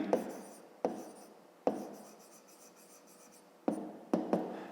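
A pen or marker writes by hand during a Ukrainian fifth-grade maths exercise about angles, giving several short scratchy strokes with brief pauses between them, close and fairly quiet, with no talking.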